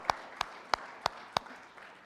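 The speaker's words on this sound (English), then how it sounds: "let's give her another round of applause" A few slow, isolated hand claps at a Pacific Islands legislatures general assembly, about five evenly spaced, faint claps that trail off in a quiet hall.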